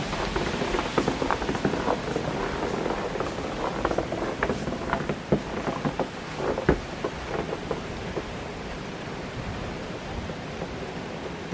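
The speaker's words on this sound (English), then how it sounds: "So I'm gonna show you how is the wind" Snowstorm wind on Prince Edward Island, a steady dense roar with pattering and buffeting gusts throughout, loud and continuous, with no talking.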